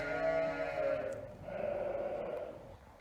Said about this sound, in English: There are 53 lambs, ewe lambs, left in this group.